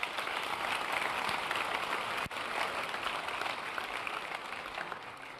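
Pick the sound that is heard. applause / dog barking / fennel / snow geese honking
applause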